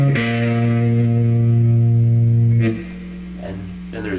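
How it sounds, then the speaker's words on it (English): An electric guitar plays through an amplifier's crunch channel with soft distortion, first a sustained chord that rings and then drops away, followed by a few lighter plucked notes, loud and close. "Then for the overdrive channel, there's crunch, which is like a soft distortion."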